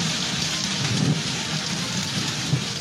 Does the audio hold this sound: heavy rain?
yes